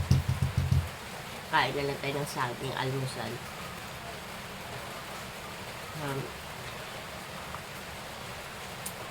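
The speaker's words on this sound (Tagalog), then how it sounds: "nakakalungkot kasi ulan" Steady rain hisses in the background while a person speaks briefly near the start and again later.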